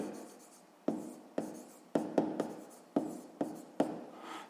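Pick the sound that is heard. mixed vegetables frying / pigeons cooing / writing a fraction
writing a fraction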